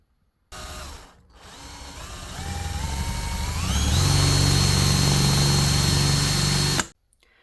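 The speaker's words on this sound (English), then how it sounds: "now I'm going to drill 2 holes right here." A power drill whirs loudly and steadily, drilling two holes in a trailer for an RC boat, its pitch climbing as it bites in, running for several seconds before abruptly stopping.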